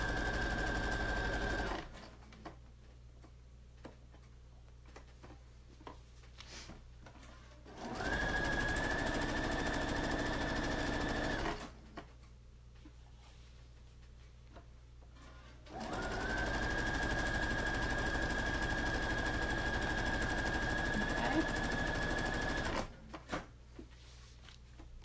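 A sewing machine stitches a formal dress hem in two long, steady bursts of fast mechanical whirring and clatter, each several seconds long, separated by quieter pauses with faint handling noises.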